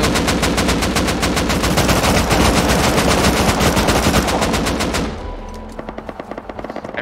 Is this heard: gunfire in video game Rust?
yes